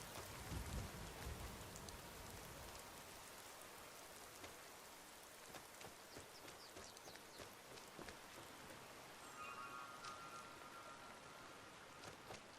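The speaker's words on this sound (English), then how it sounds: "we definitely have more of a light rain now" Light rain falls steadily in the Skyrim video game with the Obsidian Weather mod, a soft, even hiss of drops on the ground that continues without a break and with no voices over it.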